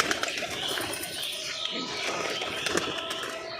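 Pet pigeons coo softly in short bursts amid a busy, noisy background, faint and brief.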